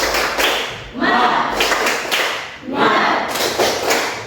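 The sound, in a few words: group rhythmic clapping, tepuk semangat cheer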